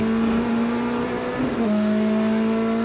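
A Corvette and Porsche race cars powering along the track at an IMSA six-hour endurance race, a loud steady engine drone with a pitch shift partway through as a car passes close by.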